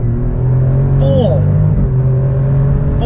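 An Alfa Romeo Giulia Quadrifoglio cruises at 230 km/h, its engine a loud, steady drone layered with heavy wind and road roar inside the cabin, while a brief voice-like tone rises over it.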